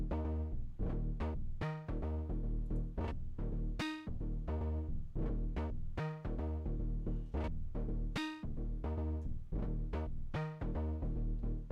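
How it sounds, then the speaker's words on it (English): A synth bass line jumps between low and high octave notes in a steady arpeggiated pattern, layered with drums and other instruments in a full, continuous mix. "bass part right here, which is pretty similar in that it has an arpeggiation on it"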